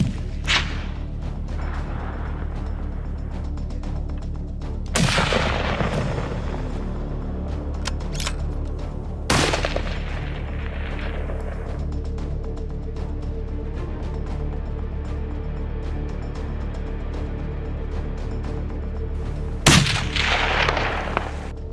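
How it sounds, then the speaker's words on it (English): Rifle shots during a trophy hunt for ibex in New Zealand, four sharp loud reports spaced several seconds apart, each with a short echoing tail over a low steady outdoor rumble. "At 394 feet, he shoots an ibex"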